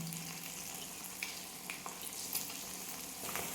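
Ivy gourd pieces coated in salt, cornflour and Kashmiri chili powder frying in coconut oil, a faint, even, broadband sizzle with small pops scattered throughout.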